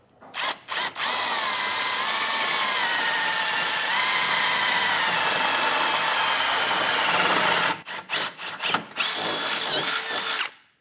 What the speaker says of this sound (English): Take a 3/8 drill bit and drill through just this first layer of steel here.